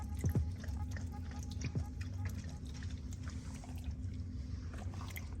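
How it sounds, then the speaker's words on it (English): A Kassty pet fountain trickles and drips steadily while a husky laps at it, soft wet splashes over a low running-water hum, with faint talking. "Gila really enjoys the running water, something she prefers a lot more over just a bowl of water."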